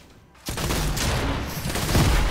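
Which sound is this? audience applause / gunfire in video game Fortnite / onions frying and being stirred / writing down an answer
gunfire in video game Fortnite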